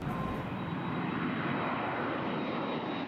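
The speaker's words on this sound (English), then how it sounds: "Planes are flying from Reagan National, but only a few to point south." An airplane passes at Reagan National Airport, its engine roar a steady, broad wash that holds loud and constant throughout with no voices.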